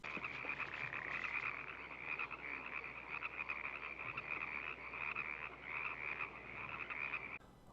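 Frogs croak in the 1972 horror film Frogs, a dense, continuous chorus of many overlapping calls throbbing steadily for several seconds before cutting off.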